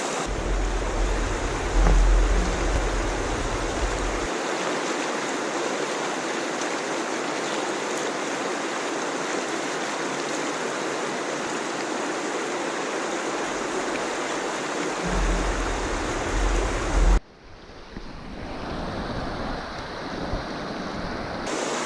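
River water of the Rio Grande flows continuously as a broad, loud rushing wash, close to the microphone and steady for most of the stretch, then it drops abruptly and turns rougher and more muffled near the end.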